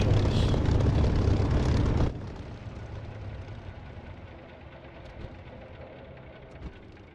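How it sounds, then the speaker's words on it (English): An aircraft engine in the DCS flight simulator video game shuts down: a loud, steady roar cuts off abruptly, leaving a quieter fading whine and cockpit hum. "I'll cut the engine and start the repair just in case."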